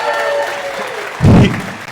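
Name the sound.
audience cheering and applauding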